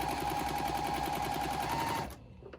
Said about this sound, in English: sewing with your full 1/4 inch, you'll just start sewing